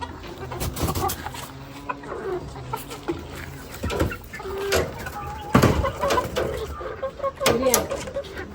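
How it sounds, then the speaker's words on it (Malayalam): Country hens at a house cluck in short, scattered bursts, near and fairly loud, while people talk intermittently among them. "ഇതൊക്കെ നാടനാ? നാടൻ കോഴിക്കളാ?"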